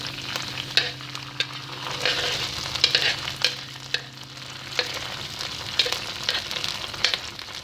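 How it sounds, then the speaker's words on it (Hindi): Peri peri sauce frying lightly in a pan for peri peri rice: a constant close hissing sizzle with a low hum beneath and scattered tapping and scraping from stirring, no voices. "इसमें ऐड करेंगे पेरी पेरी सॉस, इसको हल्का सा फ्राई करेंगे।"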